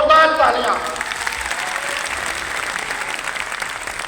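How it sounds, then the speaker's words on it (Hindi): Loud applause from a seated audience honoring the Indian Army at a motivational company event, a dense sustained wash of clapping that begins strong and continues evenly throughout. "मैं चाहूँगा एक बार भारतीय सेना के लिए जोरदार तालियां"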